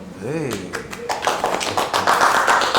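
A game-show studio audience bursts into applause after an answer on a Lithuanian quiz, sustained clapping building loudly under a host's speech.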